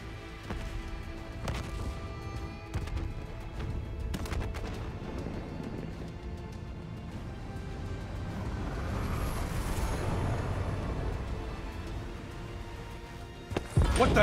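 Explosions and gunfire echo across a facility in the video game Call of Duty: Black Ops 3, with repeated sharp blasts, low rumbling and debris crashes that build into a dense, loud wash of combat noise.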